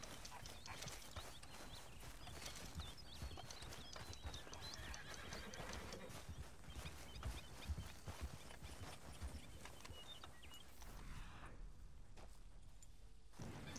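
Horse in Red Dead Redemption 2 whinnies and neighs amid steady clip-clopping hooves, fairly close and continuous over game ambience, fading toward the end.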